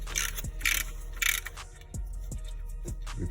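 Short ratcheting and clicking bursts from a socket wrench loosening an oil pan bolt on a 2009 Dodge Avenger 2.7L, with a few sharp metallic knocks and clanks between the bursts, close up.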